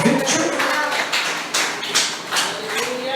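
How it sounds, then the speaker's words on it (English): A church congregation clapping their hands together in a steady, dense patter of many palms, loud and continuous with a few stronger accents, and no speech over it. "Somebody clap your hands for victory."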